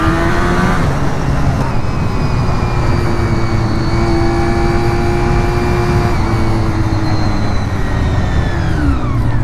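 A Honda RVF400 sports bike's engine pulls out of a corner on the road, a loud, steady, close high-revving whine that climbs and then eases off over about nine seconds, with wind rush underneath.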